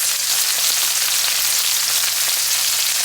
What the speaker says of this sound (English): We're just gonna let that sizzle away for a couple more minutes.